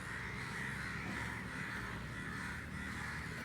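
A crow caws repeatedly and loudly, close by, in harsh overlapping calls over a playground rescue, with no talk during the calls.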